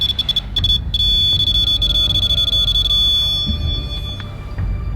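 A REM pod ghost-hunting device sounds its alarm in a hallway of the Banff Springs Hotel, a steady high electronic beeping tone that runs continuously and loudly with no talking.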